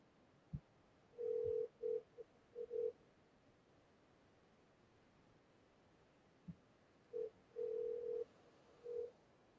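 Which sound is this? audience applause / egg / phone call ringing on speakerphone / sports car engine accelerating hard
phone call ringing on speakerphone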